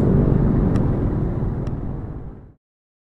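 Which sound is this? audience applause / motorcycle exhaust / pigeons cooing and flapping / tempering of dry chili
motorcycle exhaust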